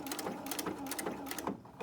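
A sewing machine with an open toe foot stitches down a sequin in a quick, rhythmic mechanical chatter, close and steady for under two seconds.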